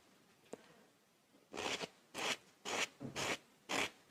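A fine nail file rasps gently over a silk-wrapped fingernail in five short, evenly spaced strokes after a single faint tick, close and quiet, with no talking.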